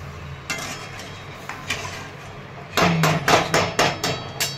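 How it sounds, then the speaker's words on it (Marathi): Roasted peanuts pounded into a coarse powder, heard as sharp thuds, a few spaced blows and then a quick rhythmic series of strikes, close by with no talk. "आता शेंगदाणे बारीक करून घेते, शेंगदाण्याचा कूट करून घेतलेला आहे"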